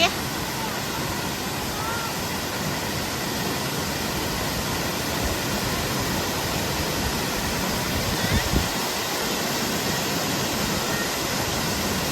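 Seven Colors waterfall in Thailand flowing, a steady broadband rush of falling water that holds close and constant throughout, with no pauses and only a brief surge near the end.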